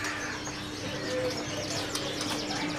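Canaries and other caged birds at a bird market, a continuous busy mix of chirps and warbling song with some cooing, moderately close, with no talk.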